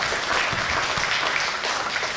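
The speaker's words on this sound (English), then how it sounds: "give big applause to Dr. Shin" Audience applause at a conference plenary session, a continuous wash of many hands clapping in a hall, steady and moderately loud throughout.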